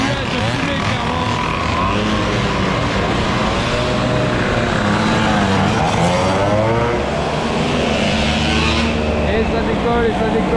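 A group of motorcycles and a trike rev and set off together on a ride at a motorcycle meet, a dense loud engine drone with rising revs under steady talk.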